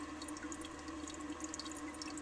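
Water runs steadily into a 1933 Standard Modernus toilet, a faint, even trickling and splashing with no talk.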